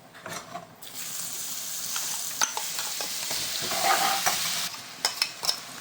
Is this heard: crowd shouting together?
no